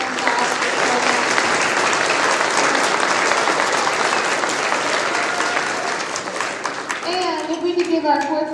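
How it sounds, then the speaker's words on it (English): School assembly audience applauding fourth grade students after their Veterans Day performance, a loud, dense, steady wash of clapping that thins near the end as a voice and chatter come through. "if we could give our fourth grade students one more round of applause for their amazing performance"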